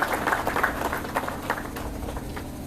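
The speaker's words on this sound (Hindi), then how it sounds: "जोरदार तालियां हो जाए इस बेहद सुंदर दृश्य के लिए" Audience applause at a university Independence Day ceremony, a burst of scattered clapping that fades out over about three seconds, moderately near.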